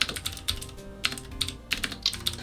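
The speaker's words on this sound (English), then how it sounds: "It's good typing." Rapid typing on a computer keyboard, a steady run of crisp clicking keystrokes with short pauses between bursts, close and clear with no talk.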